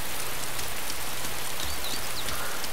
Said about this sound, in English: I don't know yet, but it is raining.